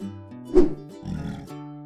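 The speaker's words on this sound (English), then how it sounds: "Bear." A bear roars in a short cartoon sound effect for children, a loud growling burst followed by a lower rumbling grunt, alone with no talk.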